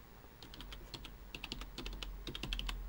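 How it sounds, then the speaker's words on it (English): Keys clatter on a computer keyboard in a quick, uneven run of crisp clicks, close and clear with short pauses, alone without speech. "Typing."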